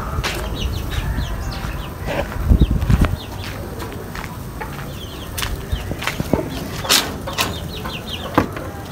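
Pigeons let out of their coop burst into flight with brief flurries of flapping wings, amid steady nearby clucking and chirping from other birds; no one speaks.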